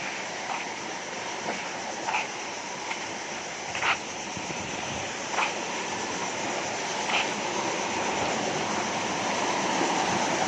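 Rising high-tide water pushes along a shoreline during a shell hunt, a steady broadband wash with a few soft surges and splashes. It continues without a break and grows slightly louder toward the end, and no one talks.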